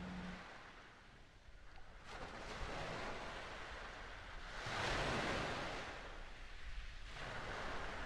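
Soft sea waves surge and recede in slow swells, a quiet wash of surf with no voices.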